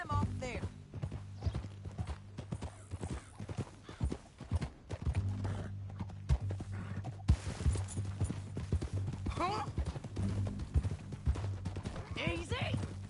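Hooves clip-clop in quick galloping beats among whinnies and scattered gunfire in Red Dead Redemption 2, with a brief voiced exclamation and an electronic, game-like ambience.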